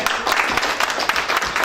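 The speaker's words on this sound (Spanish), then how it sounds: "Dale un aplauso al Rey." A church congregation applauding in praise at the close of a sermon, a short burst of dense, fairly loud clapping.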